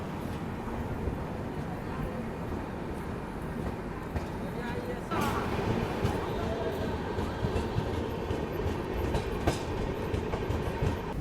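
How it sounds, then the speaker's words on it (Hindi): The Janhit Express passenger train rolls on after leaving a small station, a steady rumbling rattle with rhythmic wheel clacks heard from inside the coach and growing louder midway, while voices murmur underneath. "यहाँ पे हमारी ट्रेन सिर्फ मात्र 2 मिनट रुकी और डिपार्चर हो गया अपने यहाँ से"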